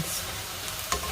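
Marinated pork sizzles softly in a pan, a brief low hiss that ends in a couple of sharp stirring scrapes.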